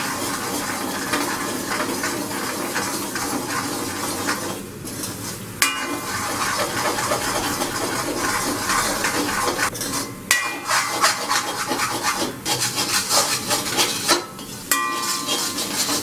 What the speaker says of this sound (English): Add in little salt, half teaspoon pepper, and now scramble the egg